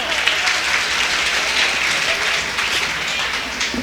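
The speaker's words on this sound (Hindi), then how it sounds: "ताली बजा सकते हो।" Audience applause fills a Hindi comic poetry gathering (hasya kavi sammelan), a steady, dense wash of many hands clapping with no break.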